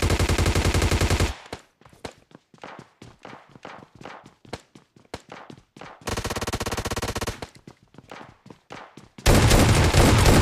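Bursts of automatic gunfire from the PUBG Lite battle royale game, loud sustained volleys at the start, middle and end with sparse footsteps and small clicks in between.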